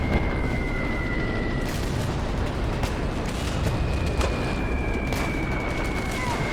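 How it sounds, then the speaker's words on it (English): Bombs dropping and exploding in the tank game Steel Fury during an attack on Chernogostie, with dull heavy blasts rolling over a steady rumbling battlefield and engine din, with no talk. "bombs are being dropped"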